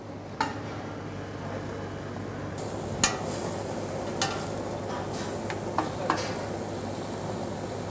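Leeks sizzling steadily in a hot pan for a cream soup, a constant frying crackle with occasional sharp scrapes and clinks as a utensil stirs them.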